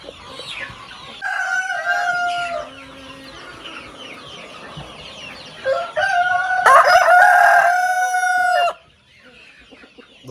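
Breeding roosters crow loudly on a farm, with several long crows overlapping close by amid lighter clucking and scattered fowl chatter in the background.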